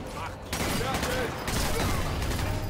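Rifle gunfire rings out in the World War II shooter Sniper Elite 4 during a tank battle, a dense run of loud shots and battle noise heard at close range, with someone talking over part of it.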